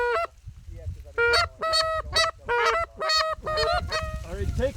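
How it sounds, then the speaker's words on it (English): A flock of geese honks over a field during a Michigan hunt, loud and close, with repeated bursts of overlapping nasal honks in a steady rhythm and low rustling between calls. "They were all pretty revved up to see so many geese in the air here."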